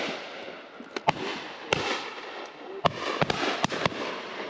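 Shotguns fire at high-flying pheasants on Exmoor, about a dozen sharp cracks at uneven intervals, some close and loud and others fainter and farther off, over an open outdoor background.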